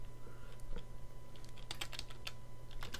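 Keys tapped on a computer keyboard while entering a root password during a Linux install on a PowerMac G5, a quick irregular run of light clicks over a steady electrical hum, close and fairly quiet.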